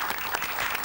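Studio audience clapping and cheering during a televised Indonesian shopping game show, a dense, steady wash of applause lasting under a second with no one speaking over it.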